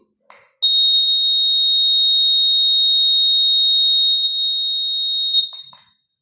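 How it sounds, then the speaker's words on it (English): A shrill homemade electric bell buzzer sounds in one long continuous tone for about five seconds, loud and close, with brief clicks at the start and end. "buzzer, that is electric bell"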